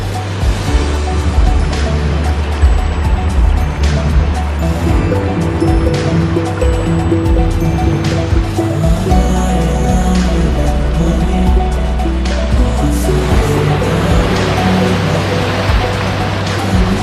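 Waves of the Bhagirathi river churning at Devprayag, a loud, continuous roar of rushing water with surging swells and splashes, heard close and without voices.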